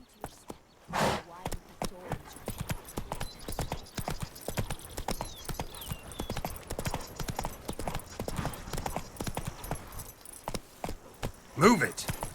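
Horse hooves clip-clop steadily at a walking pace on a hard surface in The Witcher 3 fantasy game, a close, even rhythm with faint jingling tack and a brief snort or whinny near the end.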